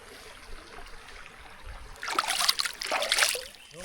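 Flowing water trickles and splashes steadily outdoors in rainy weather, growing louder and brighter about halfway through, with no talk.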